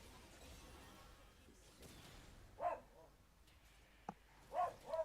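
A dog indoors lets out a few short, separate barks, faint and spaced apart over a low room hum, with a brief sharp knock between them.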